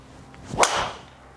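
A single sharp whooshing crack of a PXG 0311 Gen5 golf driver striking a ball, brief and moderately loud, then quiet.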